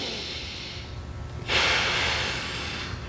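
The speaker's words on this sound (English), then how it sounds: "Basically, I'm breathing into my diaphragm." Slow diaphragmatic breathing during a knee flexion rest period: a soft inhale, then a louder airy exhale rushing out near the microphone, with no talking.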